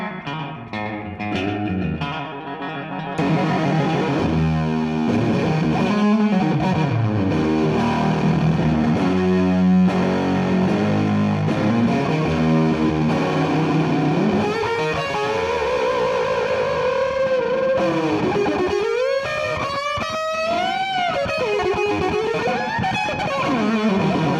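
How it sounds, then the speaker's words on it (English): A Fuzz Face pedal pushing an electric guitar into a thick, saturated wall of fuzz, loud and sustained, with chords giving way to bending, singing lead lines near the end. "One of the things about this pedal in particular was the pure wall of sound that happened once I clicked it on."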